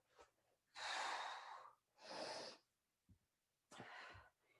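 A person breathing through a sit-up exercise, three loud breathy exhales or gasps close to the ear separated by brief quiet pauses, with a couple of faint sniffs between them.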